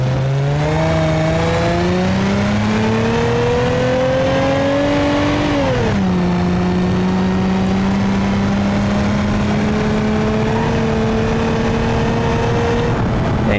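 Turbo Taxi Wagon with a 2.8 liter V6 revving hard in BeamNG.drive, a loud, steady engine note climbing in pitch, dipping once at a shift, then holding a sustained high drone with no talking.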